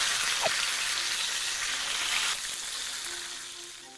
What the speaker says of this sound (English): This is a thin piece of meat, so we're only gonna cook it for a couple of minutes on each side.